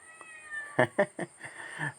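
A cat in a home kitchen where turmeric fish is being fried lets out a quick run of four or five short meows, fairly close, over a faint steady hum and without talking.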